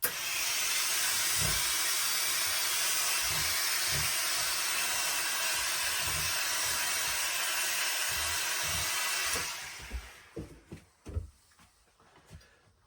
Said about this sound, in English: we're going to give the hat a little bit of a steam